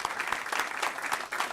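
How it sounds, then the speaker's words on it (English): An audience at a city council meeting gives a brief round of applause, with quiet, fairly distant clapping in a loose, uneven patter. "let's give her a nice big round of applause"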